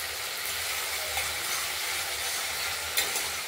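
Fish curry masala being fried in hot oil, close by: a constant bright sizzle with soft scraping stirs, and a sharper crackle near the end.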